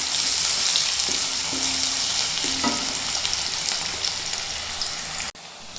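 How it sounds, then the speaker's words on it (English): Chopped onions frying in hot oil in a pan give a strong, continuous sizzle and crackle, close up, with light stirring knocks partway through. "I'm going to add in the chopped onions to this."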